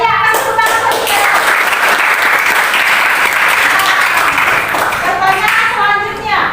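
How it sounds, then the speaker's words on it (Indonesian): Applause from a class during a university teaching-practice lesson: dense, steady clapping from many hands fills the whole stretch, loud and close, with no break. "Ya, kasih tepuk tangan buat kita."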